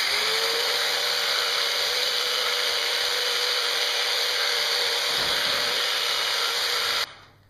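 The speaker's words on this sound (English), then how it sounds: "I just kind of turn the lid under the jigsaw" A jigsaw cuts through a plastic bucket lid with a steady, loud, high-pitched buzzing whine that runs unbroken for about seven seconds, then cuts off abruptly as the blade stops.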